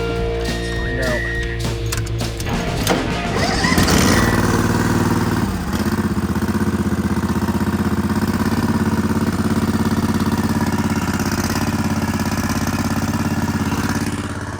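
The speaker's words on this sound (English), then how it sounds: "See if this tractor moves this load." A loud tractor engine chugs and idles with a deep, steady rumble, revving briefly early on before settling into a constant running drone.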